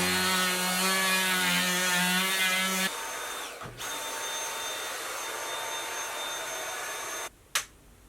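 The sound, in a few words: power sander sanding a camper trailer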